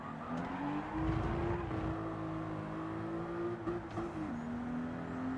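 A car engine in Gran Turismo 7 hums at a steady pitch, rising briefly then holding, with a slight drop near the end, sounding muffled and mid-distance.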